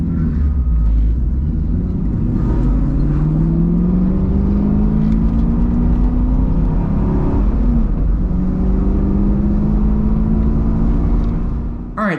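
A BMR-equipped 6th gen Camaro runs hard on a road course on a hot track, its loud engine droning and rising and falling through gears in steady sweeps, heard from inside with no talking.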